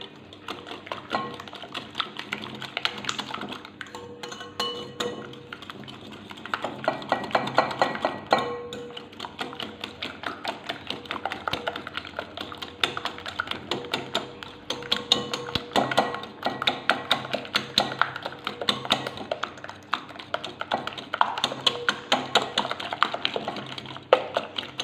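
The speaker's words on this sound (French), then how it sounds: "Je vais ajouter à peu près un verre de sucre en poudre et je vais mélanger les deux ingrédients." Eggs and powdered sugar mixed in a bowl, heard as a steady run of quick, light tapping and clicking strokes of a whisk or fork against the bowl, close and fairly quiet, with no talk.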